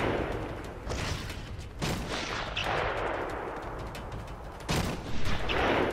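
Rapid sniper gunfire in Batman: Arkham Asylum, a string of sharp loud cracks and booms spaced a second or so apart over a dense rumbling game background.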